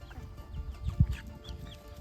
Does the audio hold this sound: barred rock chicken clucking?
yes